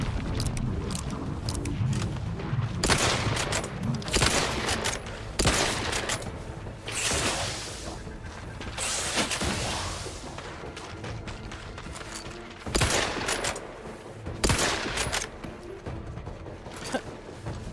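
Gunshots in the video game The Outer Worlds 2, a series of sharp, loud cracks spaced irregularly over a background of game ambience and rumbling.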